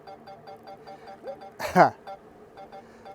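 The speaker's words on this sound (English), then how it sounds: "I'm hearing the obstacle beeping on the drone" A tracking drone's obstacle-avoidance warning: short, evenly spaced electronic beeps repeat steadily at a modest level, briefly broken by a spoken word.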